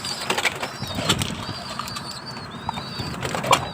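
Pigeons coo softly in the background while higher bird chirps and whistles ring out now and then, with light rustling throughout.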